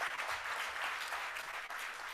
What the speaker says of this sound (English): if we could please have a very enthusiastic round of applause for Deepak Raj